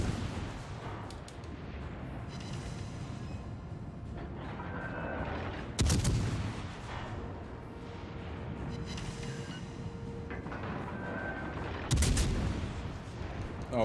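Heavy warship main guns booming in World of Warships Legends, two loud salvos several seconds apart over a steady engine and ocean rumble, with faint game sounds between.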